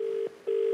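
A telephone ringback tone after dialing an old-style landline number: a steady hum-like tone, a short gap, then the tone again, clear and alone.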